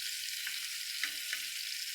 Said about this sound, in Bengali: এই দেখো চিংড়ি মাছ ভাজা হচ্ছে কেমন